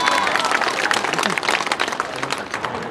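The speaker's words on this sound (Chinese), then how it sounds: "掌声" Audience at a cross-strait martial arts forum bursts into loud, dense applause with crowd noise, sustained and gradually thinning.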